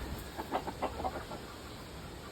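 A run of soft, quick chicken clucks in a quiet setting, moderately close, with a louder cluck at the very end.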